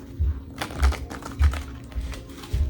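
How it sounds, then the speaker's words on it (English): A tarot card deck being shuffled by hand, with soft riffling card sounds and several rhythmic low thumps as the cards are knocked together, close and fairly loud with no talking. "I'm gonna shuffle 2 more times here"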